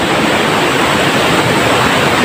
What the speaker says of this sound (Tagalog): This look like underground river.